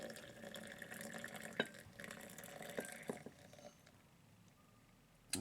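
Sodium hydroxide lye solution poured into a container, a quiet continuous liquid pour with faint clinks of glass and a short splash at the end, soft and close, with no talk.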